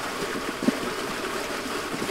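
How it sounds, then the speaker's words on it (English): Rushing water from a waterfall in the physics game Human Fall Flat as a raft heads over the edge: a steady, broad wash of flowing water with a brief thump partway through, no voices. "we're about to go down a waterfall"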